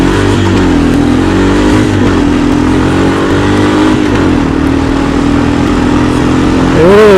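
A Honda quad ATV, a Foreman 400 or FourTrax 300, accelerates loudly and up close in first gear, its engine note climbing steadily and then jumping into a higher whine near the end.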